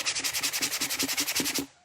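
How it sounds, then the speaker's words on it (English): Rhythmic back-and-forth sanding of wood with a block, about fourteen quick even strokes, close and steady, then stopping. "we're gonna take my sanding block"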